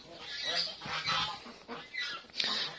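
Geese honk repeatedly in a noisy, overlapping chorus, several birds calling close by in bursts.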